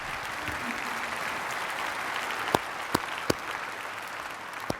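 Steady applause from a debate audience fills the whole stretch at moderate volume, with a few sharper isolated claps standing out near the end.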